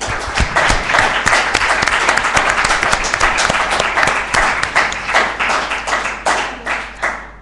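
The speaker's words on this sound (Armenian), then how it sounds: "ուզում եմ ծափահարենք նրանց" An audience at a media centre screening and discussion of the film "Kessab" applauds in a full, dense burst that gradually breaks into distinct, rhythmic individual claps as it tapers off.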